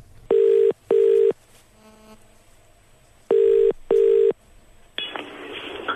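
A telephone being dialed for a call: two pairs of clear, loud keypad tones in a steady rhythm, separated by a quiet faint buzzy gap, followed by a burst of broadband line noise as the call connects, with no talking.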